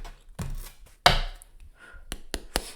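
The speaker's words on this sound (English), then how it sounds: "Let's cut this deck really quick." A deck of tarot cards is cut and tapped on a surface, giving several sharp, close clacks and shuffling rustles spaced irregularly with a few crisp knocks toward the end.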